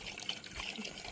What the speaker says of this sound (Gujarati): મસ્ત મજાનું પાણી નાખી દઈએ